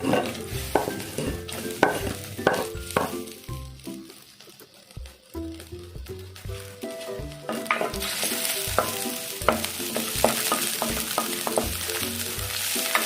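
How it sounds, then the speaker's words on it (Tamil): Onion sliced lengthwise frying in oil for chicken kola urundai kuzhambu, a continuous close sizzle with frequent rhythmic stirring clacks and scrapes, growing louder toward the end, with no talk. "இப்போ நம்ம ஒரு ஆனியன் வந்து நீல வாக்கில் கட் பண்ணி வச்சுருக்கோம். அதை வந்து இப்போ இதில் எண்ணெயில் சேர்த்துக்கலாம்."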